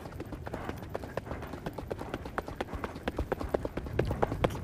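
A strong horse's hooves beat a steady clip-clop on firm ground, close by and continuous, with faint talk from a rider or trainer in the background.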